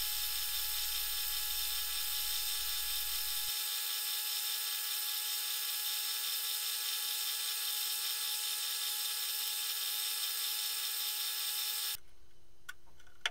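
A high, steady whining drill boring holes in wooden keys runs continuously for several seconds, then abruptly stops, leaving a quieter tail with a few small clicks.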